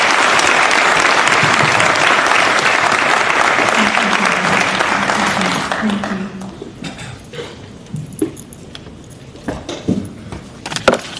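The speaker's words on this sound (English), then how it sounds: "Let's give our panelists a round of applause" A chamber of commerce annual membership meeting audience applauds the panelists with dense, loud clapping for about six seconds, then the applause thins to scattered claps as a voice speaks briefly.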